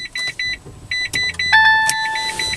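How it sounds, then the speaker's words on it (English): A Citroen C-Zero electric car starting up with the key while the brake is held, giving a string of short electronic beeps and chimes followed by a steady tone, with no engine roar. "There we go, the car is running."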